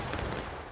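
A massed volley of muskets discharged on command at a reenactment event, a single loud, dense boom that decays over less than a second, with no talking.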